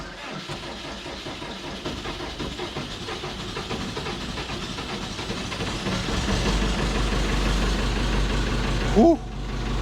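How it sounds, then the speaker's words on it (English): A 50E farm tractor idles in the snow with a steady, close diesel chug and rattle that grows slightly louder partway through, followed by a brief sharp squeak near the end. "got to hope that the bloody tractor starts"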